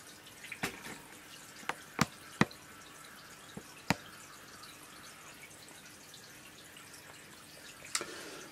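Quiet, steady trickle of aquarium water draining into a shower tray during a water change, with scattered drips and splashes landing at irregular intervals.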